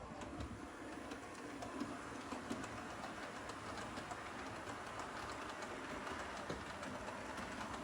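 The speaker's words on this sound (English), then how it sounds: "as the train comes through" A model train rolls steadily along the track in an indoor layout, with a faint continuous clatter and light clicking, heard from nearby at low volume.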